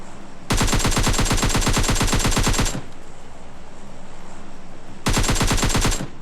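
Loud automatic gunfire in the battle royale game PUBG Lite: a long sustained rattling burst of rapid shots, a pause filled with ambient game noise, then a second burst starting. No one talks.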